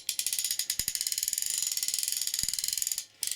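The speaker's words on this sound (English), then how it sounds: "on the heritage reel, you get a clicking sound" A Heritage centerpin fishing reel spins with a rapid, loud, close ratchet clicking, evenly paced for about three seconds, then briefly pauses and resumes; a couple of faint low knocks sit underneath and no one speaks.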